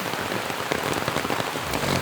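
Steady rain pours down at a forest resort in Maredumilli, a dense continuous patter of drops on surfaces, close and fairly loud with no one talking.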